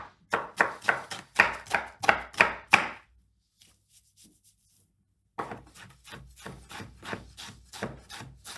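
A knife chops onions on a wooden board in two bursts of steady, crisp strokes, about eight quick loud chops, a pause of near silence, then a longer run of softer, rapid chopping.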